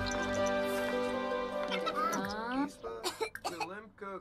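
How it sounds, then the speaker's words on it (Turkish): A Sim sick with Llama Flu in The Sims 4 coughs; a long tonal vocal sound gives way to a burst of short, close coughs and throat clearing near the end. "Öksürük de var. Bu da Lama Flu."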